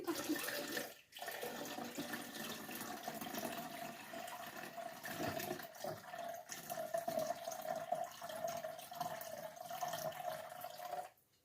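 Liquid pours steadily from a container into a pot for sweet-and-sour courgettes, a soft continuous trickle that lasts about ten seconds with a brief break near the start, faint and close, with no talk over it.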